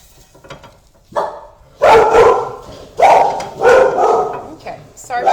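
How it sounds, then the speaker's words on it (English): Dogs bark loudly and close by in repeated bursts, several sharp barks in a row with brief pauses between them. "Okay, sorry about the dogs."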